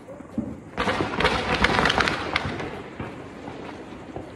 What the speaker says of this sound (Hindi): अभी हम फोड़ने आ गए हैं पटाखे